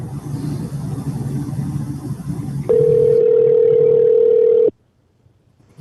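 A telephone call tone sounds during an outgoing callback, a steady, loud single-pitch tone lasting about two seconds that cuts off abruptly after a stretch of low rumbling background.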